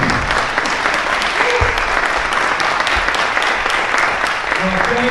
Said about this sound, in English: Let's give a round of applause for Mayor Duggan